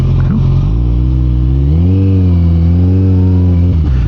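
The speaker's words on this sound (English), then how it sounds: "Now they're doing the slow drag racing." Motorcycles rev loudly during slow drag racing at a bike night, with a deep engine growl that rises and swells mid-clip before settling. It is close and dominant, with no voices.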